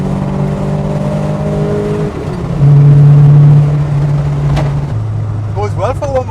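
Vauxhall Nova Sport 1.3 on twin Weber 40 carburettors, engine held at a steady high rev then shifting pitch, loud and close with a raspy whine and a brief lower tone near the end.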